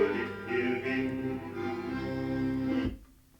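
An old vinyl pressing plays a track, a brief stretch of continuous tonal accordion-like music that cuts off abruptly near the end, leaving faint residual noise.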